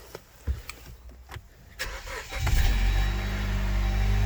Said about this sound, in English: And then she fires right up. Good little Jeep.